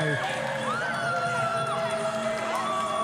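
Supporters of a women's Muay Thai bout in Thailand shout and cheer in a steady background roar while an animated commentator talks over them throughout.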